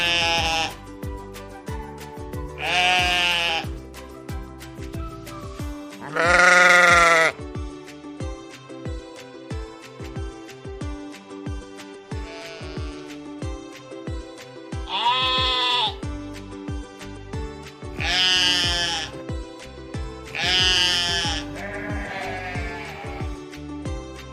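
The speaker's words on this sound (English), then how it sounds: "Sheep." Sheep bleat in a farm-animal sound sequence, several loud wavering calls spaced a few seconds apart over a steady tonal music bed with a regular beat.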